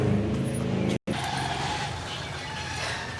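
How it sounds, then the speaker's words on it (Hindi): A motor vehicle runs nearby with a steady low engine rumble, briefly cut off for a moment and then continuing at moderate loudness under a faint voice. "पता नहीं भाई क्या गाड़ी सी चल रही"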